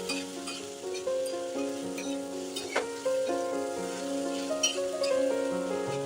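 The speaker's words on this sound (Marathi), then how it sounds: "यासाठी आपण लो टू मीडियम फ्लेमवरती हा कांदा छान असा परतवून घ्यायचा आहे" Onion sautés in a pan over a low-medium flame, giving a continuous crackling sizzle with stirring scrapes and small pops, moderately close and with no talk.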